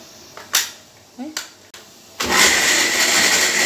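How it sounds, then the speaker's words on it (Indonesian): An electric kitchen blender switches on to purée pempek fish-cake ingredients with a splash of water, roaring steadily and loudly after a few short clicks and taps while someone speaks beforehand. "Di blender sampai lembut."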